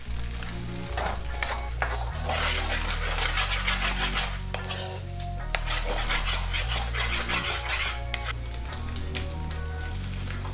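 Beaten chicken egg scrambling in a hot pan, a steady sizzle with repeated scraping and stirring of a utensil against the pan, close and continuous with no voices.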